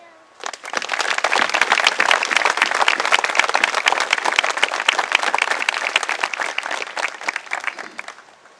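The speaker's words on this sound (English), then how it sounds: "Veterans, I ask you to join with me in a round of applause to salute these kids and their faculty leadership for that effort." Veterans and others at an elementary school Veterans Appreciation and Patriotism Day give a round of applause, a dense, loud burst of many hands clapping that starts abruptly, holds steady for about eight seconds, then fades quickly.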